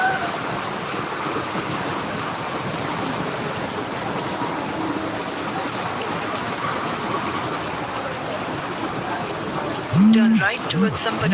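Heavy rain pours on flooded streets in Sanpada, Navi Mumbai, a dense, unbroken roar of water that fills the whole stretch, with a voice breaking in briefly near the end.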